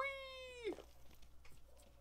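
A cat in the video game Planet of Lana lets out one drawn-out, falling meow that breaks off abruptly, followed by soft scattered game sounds and faint background ambience.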